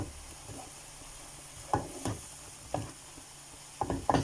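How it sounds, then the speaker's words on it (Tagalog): Chicken with sumac being stirred in a hot pan, a faint steady sizzle with a few spaced scraping strokes of a spoon across the pan, near and fairly quiet. "Ang kanilang sumak. So, haluin natin."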